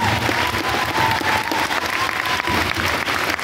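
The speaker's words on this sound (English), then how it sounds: "Let's give a round of applause." An audience applauds at a children's karate belt ceremony with a thick, even roar of clapping that fills the whole stretch at steady loudness.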